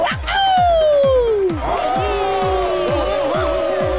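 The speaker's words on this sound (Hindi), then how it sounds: "उसकी जगह हूटिंग कीजिए" A cartoon crowd at a Dussehra festival whoops and cheers loudly in place of clapping, with long sliding hoots over a steady run of thumping drum beats.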